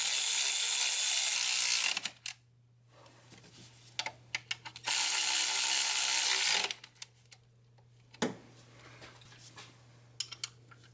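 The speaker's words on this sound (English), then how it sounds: "now I'm gonna tighten these 4 10mm bolts for the bottom timing belt cover" Ratchet wrench tightening four 10mm bolts on the lower timing belt cover of a VW Beetle 1.9L, with bursts of rapid clicking separated by short pauses and small metallic handling noises.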